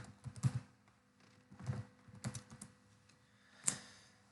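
Fingers type on a computer keyboard, close and quiet, in short bursts of clicking keystrokes separated by brief pauses, ending with one sharper tap; no speech.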